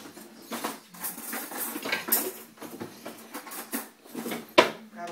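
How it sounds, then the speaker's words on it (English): Metal forks clatter and tap against a cooking pot holding pulled pork, a quick series of close, light clinks and scrapes with one sharper knock near the end, no talking. "I gotta grab a couple forks real quick"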